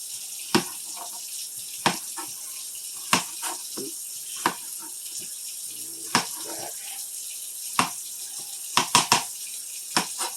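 Potatoes are washed under running water in a kitchen sink: a faint, steady trickle of tap water broken by scattered sharp knocks and clicks as the potatoes are handled, with no talk.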